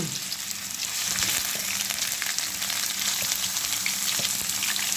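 Pork offal and pork stir-fried with curry paste in a pan, a steady, dense sizzle with scraping stir noises running throughout at close range, no voices.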